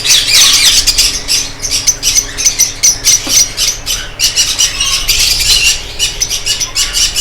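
Lovebirds and conures squawk in an indoor breeding setup, a loud, dense chorus of harsh, shrill calls in rapid overlapping bursts close by, with no one talking.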